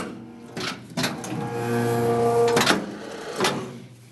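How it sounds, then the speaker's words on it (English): A paper guillotine's automatic back gauge advances while cutting business cards, giving a steady motorized whir of about two seconds between clunks and knocks of the machine, heard close with no talking. "now we're going to do our automatic advance of our finished side of 2 inches and our gutter of a 1/2 inch"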